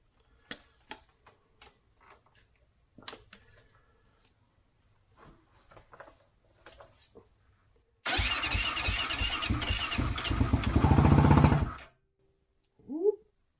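A 2008 Kawasaki KFX450R ATV that had been failing to start fires up and runs loudly for about four seconds, then cuts off abruptly, after scattered faint clicks and tinkering sounds.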